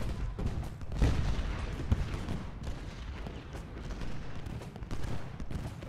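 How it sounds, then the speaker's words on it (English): Artillery canister fire in the Civil War strategy game Ultimate General Gettysburg, with a steady rumble of distant cannon and musket volleys and a few sharper booms standing out, moderately loud with no talk. "We're going to have all of our artillery focus on the Iron Brigade."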